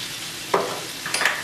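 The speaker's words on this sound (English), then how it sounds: "trying to make sure to continue stirring the garlic" Garlic being stirred in a hot pan for creamy shrimp and grits, a steady sizzle with a couple of scraping stirs of a utensil, close and fairly loud, no talking.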